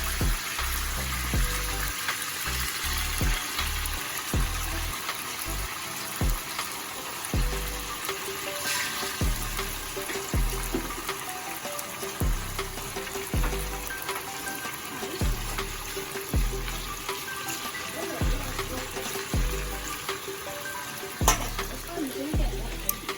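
Chicken pieces fry in a pan for brown stew chicken, a continuous close sizzle punctuated by regular thumps and clinks as pieces are moved and turned, with faint bits of talk.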